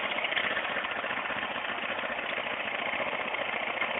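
A small carbureted engine on a homemade mole killer runs steadily close by with a dense, buzzing, slightly knocking drone, constant in level for the whole stretch, with no voices.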